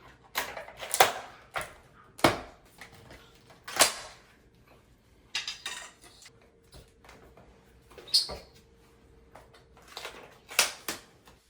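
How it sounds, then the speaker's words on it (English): Toe molding is pried and pulled off a door frame during a concrete-floor lock installation, giving a series of sharp, irregular clicks, knocks and cracks close by with quiet gaps between, no talk. "We're going to remove the toe mold here."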